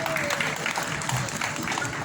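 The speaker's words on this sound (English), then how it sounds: "big round of applause" Applause from a medical conference audience at a national community medicine gathering, a steady dense patter of clapping filling the hall for about two seconds.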